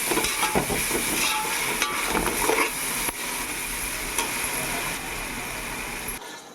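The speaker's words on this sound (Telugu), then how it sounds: "కాస్త పసుపు బాగా కలుపుకోవాలి" Frying food with turmeric stirred through it in a pan, a steady sizzle and hiss with scraping, clattering stirring strokes, loud and close, with no one talking.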